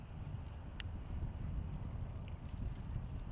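Soft, faint hoofbeats come from a horse named Romeo turning around a barrel in a barrel racing run, heard at a distance under light wind noise.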